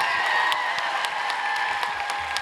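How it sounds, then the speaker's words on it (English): Steady, dense applause from a convention panel audience at FanX in Salt Lake City fills the room, sustained and fairly loud throughout with scattered sharper claps standing out. "give a huge round of applause for Susan Sarandon and Geena Davis"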